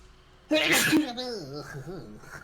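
A single loud, close sneeze bursts out after a quiet moment, followed right away by someone talking.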